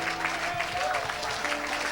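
A church congregation claps for Jesus Christ in a brief, dense burst of applause over a sustained musical tone.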